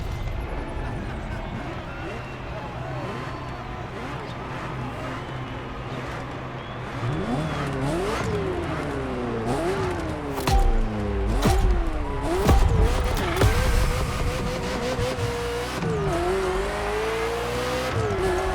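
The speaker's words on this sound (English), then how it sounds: "Ferrari F40, second vehicle of the manufacturer to earn the prestigious supercar status" A Ferrari F40 in The Crew Motorfest, its engine droning loudly and rising and falling in pitch through repeated gear shifts and revs, with tire noise and a voice talking over the car throughout.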